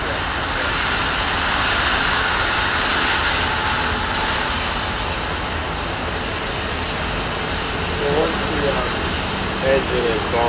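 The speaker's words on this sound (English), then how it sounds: "Engine and car go by" A railroad engine and freight car of the Strasburg Rail Road roll past on a morning freight run, a steady loud rumbling drone that holds evenly, with a few faint voices near the end.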